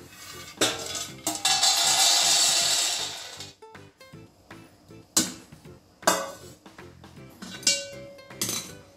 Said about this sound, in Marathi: आता आपण शेंगदाणे ताटात टाकू थंड करण्यासाठी।